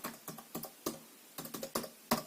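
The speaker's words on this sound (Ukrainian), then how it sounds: "Клавіатура повнорозмірна із цифровим блоком. Дуже гарно звучить." Close typing on a Fujitsu LifeBook E782 laptop's full-size keyboard with numeric pad: bursts of crisp key clicks in uneven clusters with short pauses between them, no voices.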